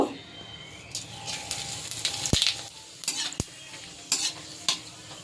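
Whole spices — dried red chillies, shahi jeera, black pepper, cinnamon, cardamom and cloves — frying in hot oil in a pan, sizzling steadily while a spoon scrapes and stirs with several sharp clinks against the metal.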